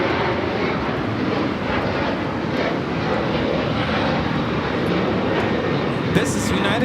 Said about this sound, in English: This is United Airlines 1069 taking off to Chicago on the 737-900ER